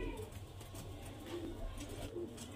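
Pigeons of a good-quality flying breed coo softly and continuously in a noisy loft, their low murmuring calls repeating under steady background din with no talk.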